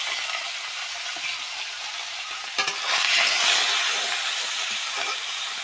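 Prawns drop into hot oil already seasoned with bay leaves, fenugreek and nigella seeds, setting off a sudden, louder crackle midway that settles into a steady, bright sizzle and hiss.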